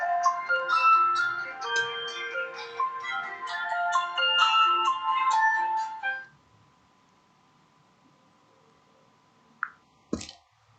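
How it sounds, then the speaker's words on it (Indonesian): A phone ringtone plays a melodic electronic tune for about six seconds, fairly loud and close, then cuts off into near silence broken by a couple of small clicks or taps. "Sorry, saya ambil teleponnya dulu."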